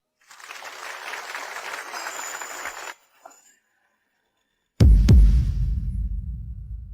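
Applause greeting a bride as she enters at a wedding: a broad, steady burst of clapping for about two and a half seconds, then a pause, then a loud low rumbling thud.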